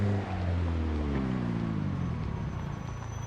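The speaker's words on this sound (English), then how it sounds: "I've been told that the car noise is really loud" A car engine drones in the video game Project Zomboid, a steady low rumble with a humming tone that slowly rises in pitch, loud and alone.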